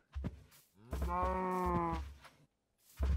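Cows in Minecraft lowing twice in succession, a short call then a long drawn-out harmonic moo, loud and close, with another call starting at the end.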